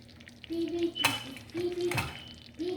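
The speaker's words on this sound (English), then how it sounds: "I'm going to be stirring it, okay, so that it will not get burnt." A spoon stirs Nigerian chicken tomato stew in a pot, with a few sharp metallic scrapes and clinks against the pot over a low simmer.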